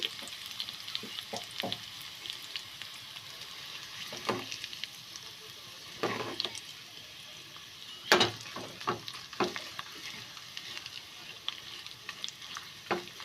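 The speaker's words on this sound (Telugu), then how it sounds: "కొద్దిసేపు ఫ్రై అవ్వాలి మంచిగా షవా చేసుకుంటున్నా ఇప్పుడు" Indian gooseberries (amla) for pickle frying in hot oil, a steady close sizzle with repeated scraping stirs and occasional sharper clatters of the spoon against the pan.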